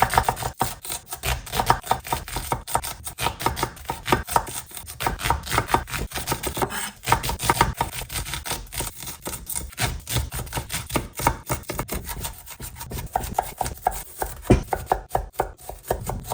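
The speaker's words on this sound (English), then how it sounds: "I'm now going to finely chop 3 onions, just medium size." Three medium onions are finely chopped with a knife on a board, a fast, steady run of close, crisp taps that continues without pause.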